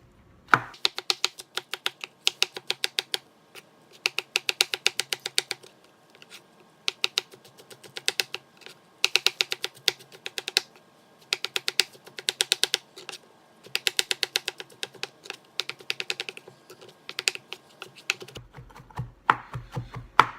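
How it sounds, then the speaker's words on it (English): A knife mincing shiitake mushrooms on a cutting board for wonton soup, heard as rapid bursts of crisp, close chopping taps separated by short pauses, with no talking. "I love shiitake mushrooms, so I'm just mincing about 5 of them."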